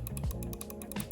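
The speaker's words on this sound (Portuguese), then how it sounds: "Os cliques ópticos, como vocês podem escutar, o clique dele é até um pouquinho diferente" Optical switch mouse buttons click in a quick series of short, crisp, fairly quiet taps, alone and without talk.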